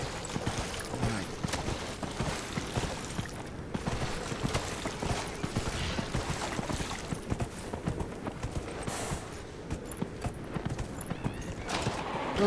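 Steady clip-clop of horse hooves in the video game Dragon Age Inquisition, a continuous rhythmic trot heard up close for the whole stretch, with a faint whinny mixed in and no voices.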